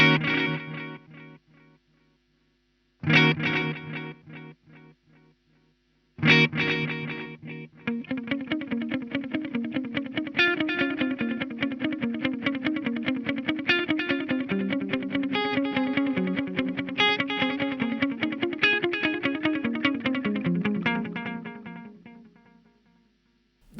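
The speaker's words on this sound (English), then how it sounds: "That's a pretty nice delay right there." A guitar signal runs through a Korg A3 effects unit set to delay with positive feedback, giving a few plucked hits and then a sustained, distorted riff with echoing repeats that smear together, loud and alone before fading out.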